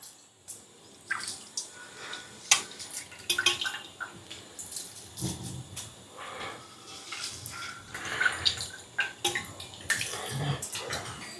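Rice tipped into boiling water in a pot for zeera rice, a series of splashing, pattering pours and rustles, uneven bursts with brief pauses, close and moderately loud.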